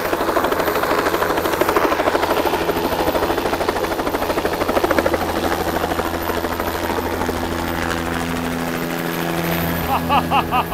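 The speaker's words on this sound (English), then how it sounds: "I heard the chopper's gonna come in and nose down" A helicopter flies overhead at a tornado chase, its rotor thumping loud and steady with a rapid rhythmic chop and an engine whine throughout.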